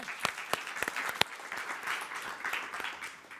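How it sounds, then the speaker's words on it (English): Applause from the audience at a climate justice panel forum, soft and somewhat distant, with several sharp individual claps standing out in the first second and a steady wash of clapping after. "Give Faiza a big round of applause first"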